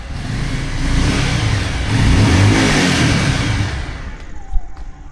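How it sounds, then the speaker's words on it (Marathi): A car engine starts in a village yard and is revved, its loud, close, mid-pitched drone swelling and easing through the revs, with a sharp click near the end. "गाडी चालू करून बघतायत"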